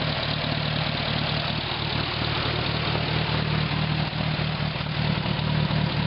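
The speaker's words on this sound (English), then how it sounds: "Motor sounds like it's right there." A 1943 WWII Army Hobart A3 generator powered by a Hercules engine runs at a steady idle, a loud, continuous low drone with an even throbbing pulse close by and no voices.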